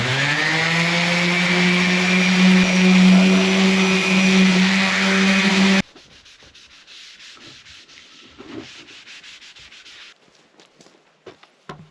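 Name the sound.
sanding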